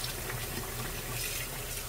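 Lettuce is rinsed under a running kitchen tap, a steady close hiss and splash of flowing water filling the whole moment without pause or voices.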